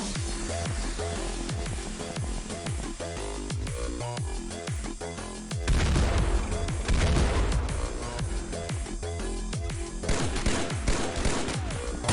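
Dense, overlapping gunfire and explosions fill a battle in the turn-based strategy game Xpiratez, an X-COM mod, with rapid repeated shots growing heavier and louder after the midpoint, no talking over it.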